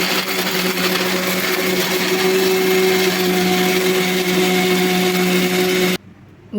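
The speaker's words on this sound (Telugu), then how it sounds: "కొంచెం వాటర్ పోసేసుకొని మిక్సీకి వేసుకుందాం." An electric mixer grinder whirs loudly and steadily as it blends coconut chutney with chillies, garlic, salt and a little water, a constant motor whine that cuts off sharply about a second before the end.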